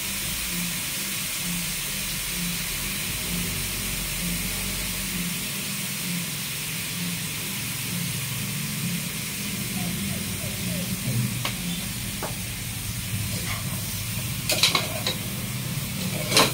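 Native chicken sautéing in fish sauce in a pan, a steady soft sizzle and hiss with occasional clinks of a utensil against the pot, while someone talks nearby.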